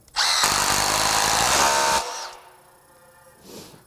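An impact driver hammering a bit whirs loudly for about two seconds with a rapid rattling hammer, then cuts off, leaving faint hiss and a small clunk.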